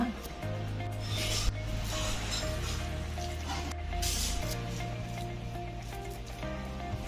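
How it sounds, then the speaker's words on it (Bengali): Boiled potato and greens are mashed by hand with oil for a Bengali bharta, giving a continuous close, soft squishing and rubbing with no voice. "আবার তেলটা দিয়েও ভালো করে এক মিনিট মাখিয়ে নেব"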